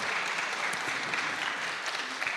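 Audience applause at a panel discussion on Zionism, a continuous, fairly soft patter of many hands clapping throughout with no voices over it.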